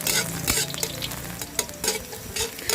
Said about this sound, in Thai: ทำการผัดเห็ดหอมให้หอมกันเลยนะคะ